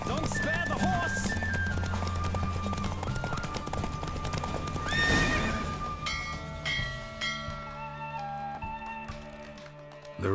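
Horse galloping in the video game The Witcher 3 during a race: rapid hoofbeats and a whinny under game music and character voices, with bell-like tones later, fairly loud throughout.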